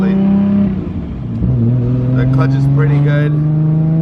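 A 1250whp Nissan RB30DET 3.2-liter engine droning steadily while the car drives, with a brief dip and shift in pitch as the revs change, loud and close inside the cabin as someone talks.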